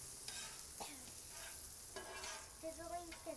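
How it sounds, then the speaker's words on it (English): Butter sizzling and frying on a hot Blackstone flat-top griddle at low heat while being stirred, a steady close crackle with scraping utensil strokes and a few brief tones. "Sizzling, sizzling, definitely."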